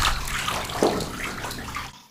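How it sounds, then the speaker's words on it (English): Well water filling a large outdoor pool, a loud, steady gushing and splashing stream heard up close throughout, ending abruptly, with no talking. "I'll just wait a bit until the water fills up a little more."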